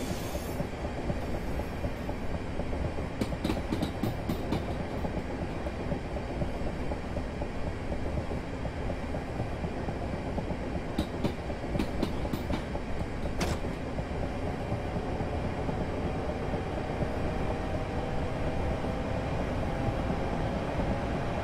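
Class 465 electric train in Train Simulator on the Chatham Main Line, a loud continuous rolling rumble with wheel noise, occasional clicks and a faint rising squeal, steady and close throughout.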